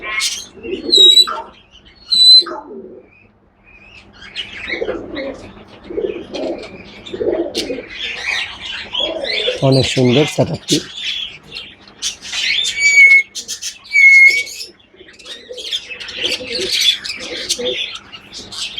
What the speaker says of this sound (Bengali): চমৎকার সে বারবিগের পাখিগুলো